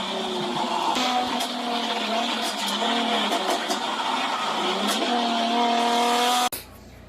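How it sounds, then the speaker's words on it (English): A Nissan 350Z accelerating hard with wheel hop, or differential hop: a loud, close engine drone with rising harmonics, rapid judder and brief tire chatter throughout, then cutting off abruptly near the end. "this is what's considered wheel hop, or to me differential hop in the 350Z."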